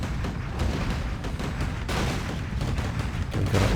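Upgraded riflemen in Warcraft III firing in a dense, continuous volley of rifle shots, crackling gunfire and booms layered over each other at steady loudness throughout, with no voices.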